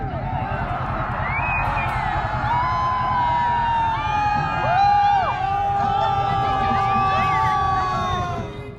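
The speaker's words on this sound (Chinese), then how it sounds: "天黑之后，大家还一起整个沙漠音乐会。" An outdoor crowd at a desert music concert near Crescent Moon Spring cheers and whoops after dark, a sustained roar of many voices with rising shouts and whistle-like cries throughout.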